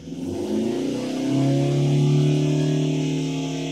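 Carbureted engine of a Subaru Sambar kei truck revving under throttle, a steady loud drone whose pitch climbs and holds high, close and continuous with no talk.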